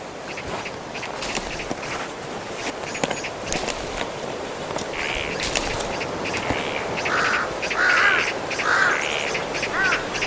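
Vultures squabbling noisily over a carcass, harsh croaking and hoarse calls overlapping in bursts over a rustling outdoor background in Central Asian winter wilderness.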